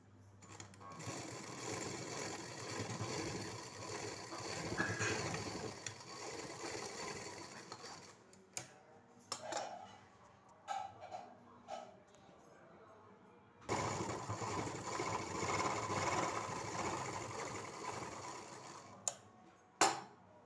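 A sewing machine stitches a small fabric baby cap, running in steady bursts of a few seconds with pauses and light clicks between, fairly close and clear with no talking.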